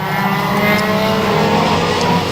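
Banger racing cars roar past at close range on the Bovingdon track as the race reaches the checkered flag. The engines rise and fall as they pass, with a brief hint of tire noise and no talk.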